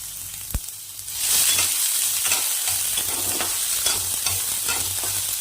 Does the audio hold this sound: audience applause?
no